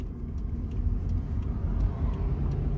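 A Hyundai Accent with a jerking-under-load fault on a road test, heard from inside as a steady low engine and road rumble. Faint ticking repeats throughout.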